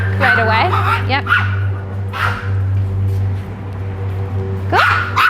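A dog with protective reactivity, out for training near passing cars, gives several sharp barks and yips spaced over a few seconds. The barks are close and sit over a steady low hum, with people talking nearby.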